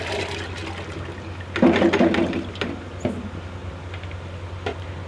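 Masoor lentils and water splash into a metal pressure cooker on a stove in a quick, sloshing pour, followed by a few light clinks and knocks.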